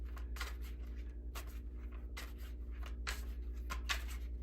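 Oracle cards being shuffled by hand during a tarot-style reading, soft repeated riffling swishes in short bursts over a steady low hum, close and fairly quiet, with no voices.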